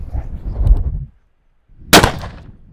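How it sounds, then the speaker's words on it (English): A .500 Smith & Wesson Magnum revolver fires a 350-grain round at a coated steel armor plate, making one loud, sharp blast up close. A short muffled rumble comes before it, and the blast fades into an echoing tail. "we have a 350 grain out of a 500 Smith & Wesson Magnum revolver"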